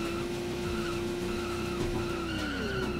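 A car in the Dreamcast racing game San Francisco Rush 2049 skids under hard braking, a steady high tire squeal over a droning engine that holds for about three seconds, with no talk.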